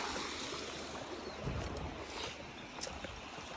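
A river stream flows at a camping spot, a steady broadband rush of moving water with some wind-like noise, continuous and moderately loud, with no talking.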